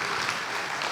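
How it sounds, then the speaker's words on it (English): An evening audience at a Python programming conference's lightning talks applauds the speakers: dense, steady clapping from a full room, fairly loud and continuous, with no voices over it. "can we have a massive round of applause for all of our speakers this evening?"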